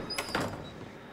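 A door in the horror video game Outlast opens with a couple of short scraping, sliding thuds, fairly quiet and close.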